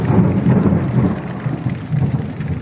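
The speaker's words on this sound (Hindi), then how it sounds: "बहुत भयानक बिजली कड़क रही है।" Loud thunder rolls and cracks through a storm, a heavy continuous rumble with rain and no voices, its intensity rising and falling over a few seconds.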